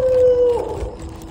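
Dogs on a roadside, heard during a long walk from Vijayawada to Chennai: a single sustained howl rises clearly for about half a second, then fades into a low, murky background.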